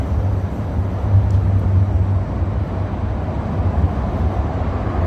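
A train runs through Racecourse station with a steady, loud low rumble that holds evenly throughout, with no voices over it.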